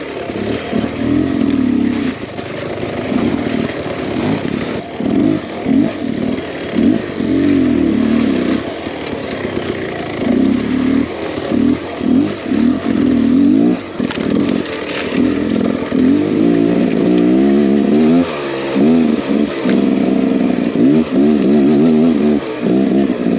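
A 2023 Beta X Trainer 300 two-stroke dirt bike rides a forest trail with a loud, close, buzzing engine that revs and drops constantly, rising in quick bursts and easing off as the rider works through the terrain.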